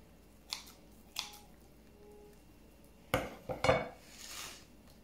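Scissors or a blade snip through a thin pastilla pastry sheet in a quiet kitchen: two isolated light cuts, then a cluster of quicker crisp snips and rustles, close and soft, with no talking.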